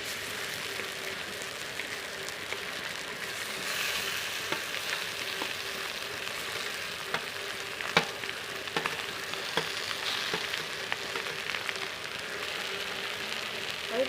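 Potatoes frying in oil in a pan for aloo puri produce a steady, even sizzle with faint crackles and occasional sharp pops, close and fairly soft, without talk.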